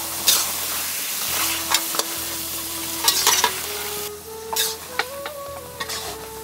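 Biryani being stirred in a pot on a village stove, with scraping strokes against the metal over a soft, steady sizzle, close by and without speech.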